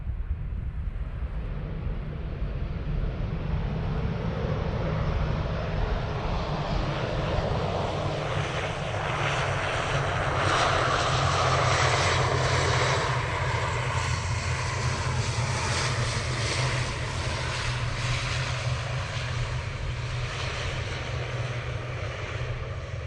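An airliner in former Avianca livery roars at Manchester Airport, its engines building into a broad, loud rushing drone that swells mid-way and holds steady throughout, with no voices.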